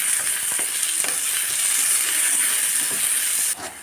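Onions, garlic and green chillies sautéing in hot coconut oil give a steady, loud, close sizzling hiss that barely changes, then drops slightly near the end.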